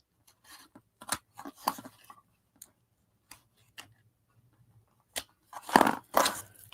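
Scissors snip through paper for a handmade collage book, a series of short, sharp cuts spaced irregularly with quiet gaps, ending in a louder cluster of close snips.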